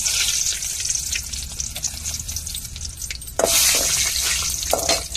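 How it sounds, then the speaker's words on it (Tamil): Dried fish frying in hot oil with dried red chillies in a pan, a steady broadband sizzle that jumps louder partway through as more goes in, close and continuous with no talk. "கருவாட்டை பொரிச்சு எடுத்துக்கிடுவோம்."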